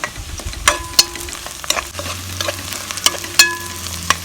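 Four slit green chilies fry in hot oil for beetroot kurma, a close, crackly sizzle marked by sharp pops and spoon-scraping stirs at an irregular pace.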